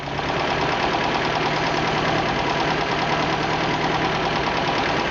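MG engine with HIF carburetors held at a steady high rev during tuning, a loud continuous close drone with a rough mechanical beat.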